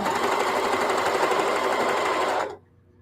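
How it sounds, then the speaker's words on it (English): A sewing machine stitches through a quilted jellyroll placemat, a loud, close, rapid mechanical whir that runs steadily with no talk and then stops abruptly near the end. "so let's sew. This will be a quickie. So I'm going to do a couple stitches forward, a couple stitches back"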